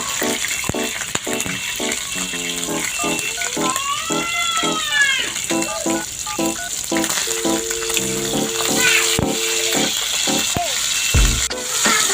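Steady sizzling of fish frying in a pan, a constant crackling hiss with scattered clinks and scraping of utensils.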